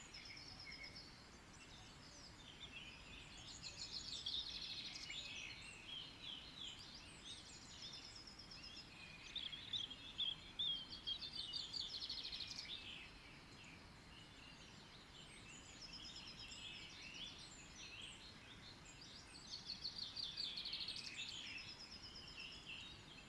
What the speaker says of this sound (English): Our old friend the chaffinch.